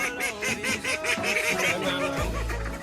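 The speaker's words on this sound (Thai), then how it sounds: "เอาไปดูเป็ดเล่นน้ำปะ" Several ducks or geese honk and quack in a busy chorus, fairly close, before a low rumbling noise takes over at the end.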